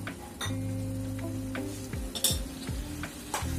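Spice paste of red chilli powder and black pepper hits a hot pan for a vegetarian mixed-vegetable curry, giving a steady sizzle with stirring scrapes and a few light clinks of utensil on metal, and no talk over it.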